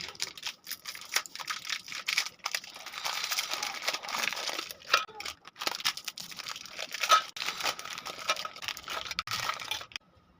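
Seven biscuit packets are torn open and unwrapped, with near, continuous crinkling and crackling of plastic wrappers and several sharp tearing bursts, with no talking, ending abruptly.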